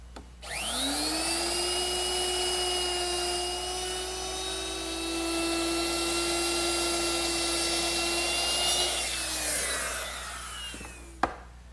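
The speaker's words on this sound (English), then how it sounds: "I'm going to use my router, which is equipped with a 3/8 inch beading bit." A router fitted with a 3/8 inch beading bit spins up and runs steadily while rounding the corners of a wooden table leg, a loud sustained whine that shifts pitch near the end before winding down with a sharp click.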